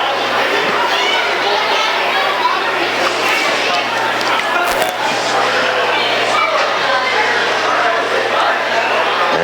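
Hockey arena crowd between periods, a dense, continuous chatter of many voices at a steady level, with occasional louder shouts and no single voice standing out.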